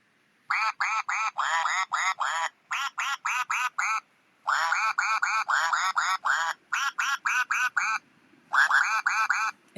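A toy duck quacks over and over in quick rhythmic bursts, squeezed in bright nasal runs separated by short pauses, loud and close with nothing else behind it.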